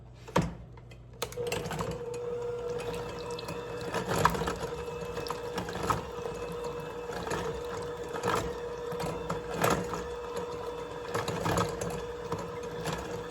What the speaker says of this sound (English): We're going to mix these together with our mixer